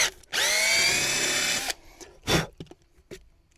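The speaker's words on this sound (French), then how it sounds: "Et je vais juste le visser." A power drill drives a screw into a coffee table made from a Michelin 24H Series tire, with one loud, sustained whine of about a second and a half followed by a few short clicks and clunks.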